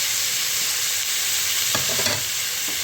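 Fish laid into hot oil in a pan for a restaurant-style Bengali recipe, giving a loud, steady, broad sizzle throughout with a few brief bursts of spattering near the middle.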